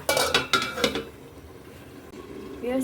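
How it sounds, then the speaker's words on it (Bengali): A metal lid is set down over a pot of fish and greens, giving a few sharp clanks of cookware in the first second, then a low kitchen hum. "এখন আমি এটাকে ঢাকনা দিয়ে ঢেকে দিব"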